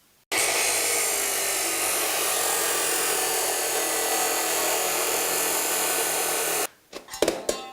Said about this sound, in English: we'll go to the chop saw to cut that off